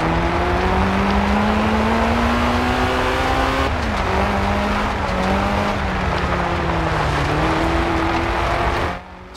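Several race cars in a Forza Horizon 2 championship trail race roar together at steady high revs, engine notes sliding up and down with gear shifts, loud and continuous until cutting off abruptly at the end.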